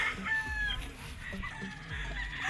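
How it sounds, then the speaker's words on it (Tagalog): Chickens and roosters at a Philippine gamefarm, including white-legged early-bird gamefowl, cluck and crow in a busy yard, with a steady layer of overlapping fowl calls and a brief rooster crow at moderate distance. "tingin pa tayo sa iba mga tol para makilatis natin mga manok dito to ni Sir Edmund."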